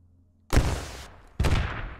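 Gunfire in the video game Squad, two sharp bursts of shots about a second apart, each loud and close with a rattling tail, no talk.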